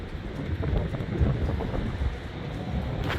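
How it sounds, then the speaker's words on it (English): Gusty wind buffets the microphone outdoors at a marina beside a 1999 Sting Ray 190 LX sport boat, a steady broadband rumble with slight surges throughout. "Kind of windy out here today."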